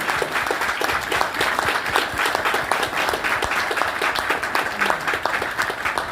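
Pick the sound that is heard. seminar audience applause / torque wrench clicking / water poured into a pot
seminar audience applause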